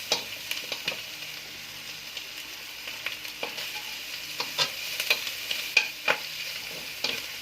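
Onions sauté in a pan for adobo while a spoon stirs them, soft sizzling under intermittent scraping strokes that grow busier and louder toward the end.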